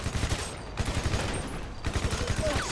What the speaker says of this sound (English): It feels kind of weird to be shooting a machine gun.